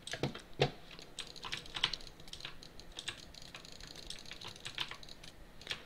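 Rapid jitter clicking on a computer mouse during Minecraft PvP: a fast, dense stream of sharp little clicks, uneven in loudness with a few louder taps, close up and quiet over light background noise.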